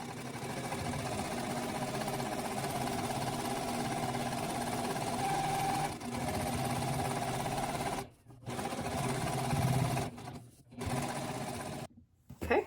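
A sewing machine stitching around the perimeter of a fabric envelope pillow cover, a close, steady mechanical whir with short pauses near the end, then brief restarts.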